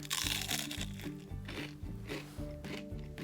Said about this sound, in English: Wow, that shrimp's really good. It's super crunchy.